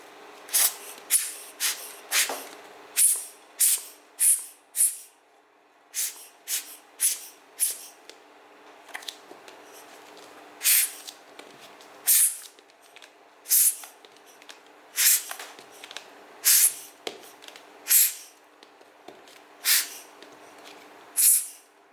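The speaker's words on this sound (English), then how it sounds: "Let's use my blower to like completely blow it out." An air blower gives many short, sharp hissing bursts into a wet Content Blue mechanical keyboard switch, close and irregular in rhythm, each puff separated by brief quiet, with no talking.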